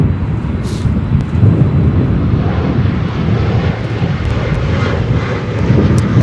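A United airliner, a five-year-old jet arriving as flight 986 from Paris Charles de Gaulle, lands at Chicago O'Hare in strong wind, a loud steady jet roar mixed with heavy wind buffeting on the microphone.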